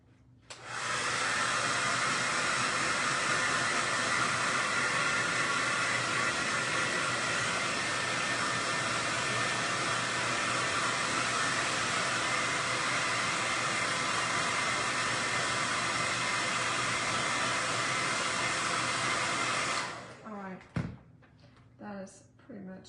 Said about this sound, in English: I'm gonna hit it with the blow dryer